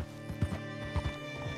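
Horse hooves clip-clop at a steady walking rhythm in Red Dead Redemption 2, several distinct thuds over a constant hum of game ambience and music.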